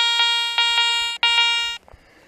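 A metal detector sounds its signal tones while searching a field for hammered silver coins: bright, steady electronic beeps with repeated pulses, a brief break, then a clipped end and a short low thump, with no voices.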